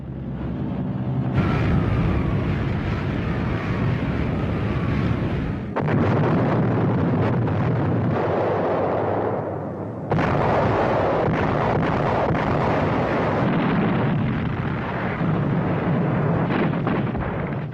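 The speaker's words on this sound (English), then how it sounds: "In desperation, the Allies bombed the historic monastery on the summit." Allied bombs exploding on the historic hilltop monastery in wartime Italy, heard as a loud, sustained roar of blasts and rumble with sharp breaks between long thundering stretches.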